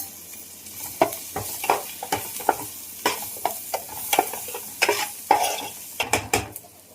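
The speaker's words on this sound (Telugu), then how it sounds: "అల్లం వెల్లుల్లి పేస్ట్ కొంచెం మొత్తం వేసుకొని బాగా కలిపి వేసుకోవాలి" A spoon scrapes and clanks repeatedly in a pan while masala with ginger garlic paste is stirred, with roughly a dozen sharp metallic strokes in an uneven rhythm over a soft sizzle, close and clear, with no voices.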